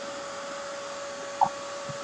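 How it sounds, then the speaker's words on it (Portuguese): An embossing heat tool blows steadily while drying a craft canvas, a constant even whirring hum with no talk over it. "Vou acelerar o processo de secagem do secador de emboss."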